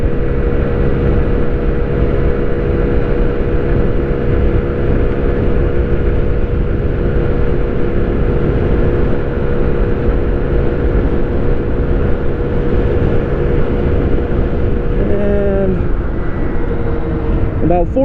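A Honda Ruckus scooter runs flat out at top speed near 42 mph, its engine droning steadily and loudly with constant wind roar throughout, with a brief shift in pitch near the end.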